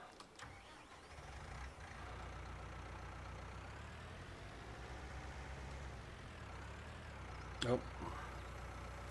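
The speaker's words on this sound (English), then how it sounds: "So we need this tractor." Tractor engine in the Farming Simulator 19 video game, a steady low mechanical drone running throughout, briefly overlapped by a short voice exclamation near the end.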